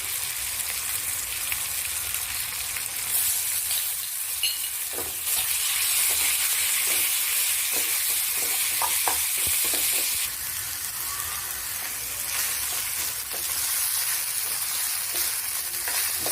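Goda masala with a bay leaf sautéing in oil in a pan for a vegetable dish makes an even, close frying hiss, broken by faint stirring scrapes and clicks, with no speech.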